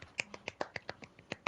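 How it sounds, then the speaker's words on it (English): Soft, polite golf clapping, about a dozen light, crisp claps in a quick, slightly uneven rhythm, quiet and close with no voices. "Round of applause. Golf clap."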